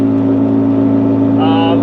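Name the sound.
2003 Saturn Vue AWD engine accelerating while driving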